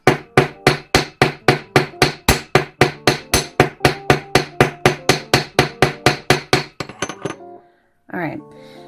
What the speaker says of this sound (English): now we're going to go ahead and hammer the very end